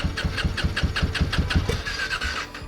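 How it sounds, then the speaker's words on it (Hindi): A motorcycle starter cranks rapidly in a dozen quick, even chugs near Kaza on the Shipki La road, where bikes are struggling to start. A thin whine follows as the cranking fades, loud and close. "तो पहले बाइक स्टार्ट करनी पड़ेगी, उसके बाद ही कुछ होगा।"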